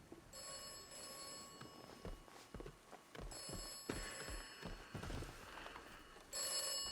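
A telephone rings in the video game Atomfall with repeated bell-like trills in a quiet setting, interspersed with footsteps and soft thuds.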